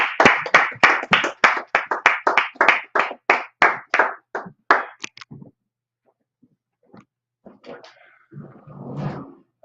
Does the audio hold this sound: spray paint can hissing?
no